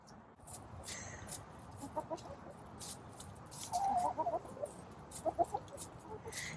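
Chickens in a coop give short, soft clucks in a few scattered bursts, close by, over a rustling straw-like background.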